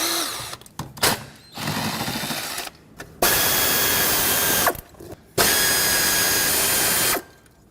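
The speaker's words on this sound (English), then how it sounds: "Now use a 7mm socket and remove all of the mounting bolts for the ignition coils." Power ratchet or drill driving a 7mm socket to remove engine ignition coil mounting bolts, sounding as loud sustained whirring bursts of a few seconds each, separated by short pauses and clicks.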